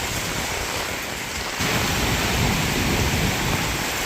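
Heavy rain pours down in a violent thunderstorm, a dense steady roar that swells louder partway through, with rumbling thunder mixed into the downpour and no voices.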